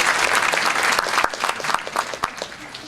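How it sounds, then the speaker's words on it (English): A festival audience at an opening screening breaks into dense applause that starts loud and full, then thins into scattered, separate claps as it fades out. "Applause for you."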